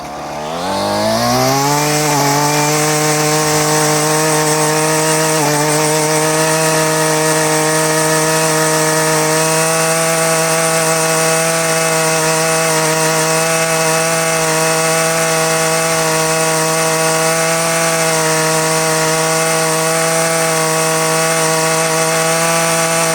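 A Husqvarna 128LD string trimmer with a replaced carburetor runs loud and close, its two-stroke engine rising quickly to a high steady whine and holding there without bogging.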